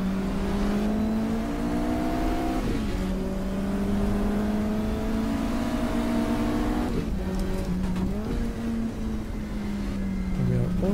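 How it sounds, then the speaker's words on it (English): A Porsche 911 RSR 3-litre race car in the GTR2 racing game laps Linas-Montlhéry during a 1,000 km endurance race, its engine a steady, moderately loud drone that drops and climbs again with several gear shifts. "It's the Porsche RSR 3 liters, Porsche 911"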